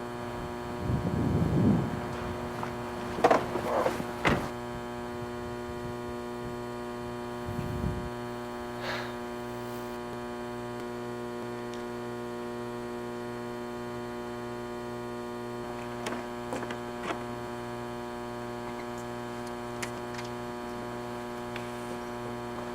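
Steady electrical mains hum drones throughout a quiet interior scene in a short film, with a few faint knocks and rustles early on and scattered light clicks over the constant tone.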